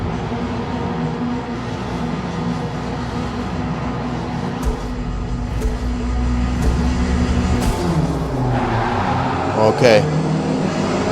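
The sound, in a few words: race cars on track at Spa in video game Forza Motorsport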